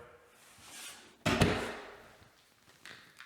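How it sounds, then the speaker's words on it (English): A door in a basement suite is swung shut with a single solid thud, preceded by soft shuffling and followed by faint rattling as the sound dies away. "I'm gonna close the door."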